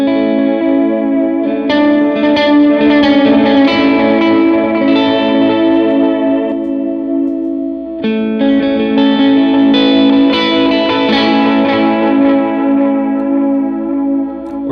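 An electric guitar played through shimmer reverb and delay pedals rings out in sustained, washy chords with long echoing tails, loud and close, with one brief pause midway before the swelling tones return.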